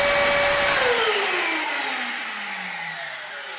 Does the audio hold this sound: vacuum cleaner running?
yes